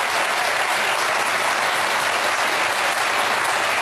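Applause from a TV studio audience, loud and dense throughout, sounding like many hands rather than a single clapper, with no voices over it.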